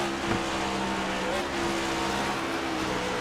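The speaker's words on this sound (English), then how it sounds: "And you hear him downshift already going up the hill." Stock race car in iRacing at Sonoma climbing a hill, its engine droning in a steady tone that drops pitch as it downshifts, with a brief tire squeal early on.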